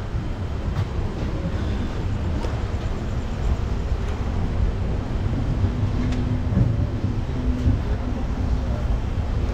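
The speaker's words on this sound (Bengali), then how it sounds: "এই সবে এনজিপি থেকে ট্রেন ছাড়লো" The 12346 Saraighat Superfast Express pulls out of New Jalpaiguri, heard from aboard as a continuous low rumble of rolling coaches with faint rattles and clicks throughout.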